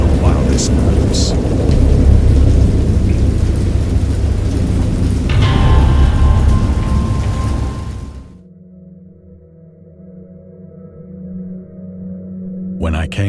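Heavy rain and rolling thunder from a video game storm roar loudly for about eight seconds, then cut off abruptly to a quiet low hum.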